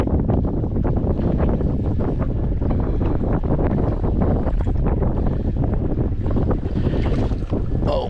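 Wind blows across Badin Lake around a fishing boat, a loud continuous rush of microphone buffeting mixed with water lapping against the hull, with no talk.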